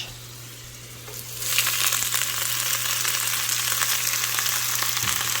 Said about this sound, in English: Ooh, listen to that sizzle.